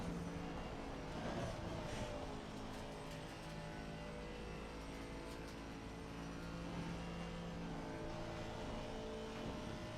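Race car engine in Assetto Corsa Competizione held at high revs in fifth gear, a steady continuous drone running through the whole stretch with fairly constant loudness.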